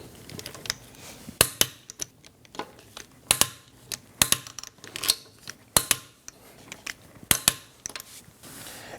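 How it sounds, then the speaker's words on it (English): Sharp metallic clicks come in spaced bursts as a torque wrench tightens lug bolts in a star pattern on a 2009-2017 Audi Q5 wheel, close and crisp with quiet gaps between. "let's torque our lug bolts to 103 foot-pounds in a star form pattern"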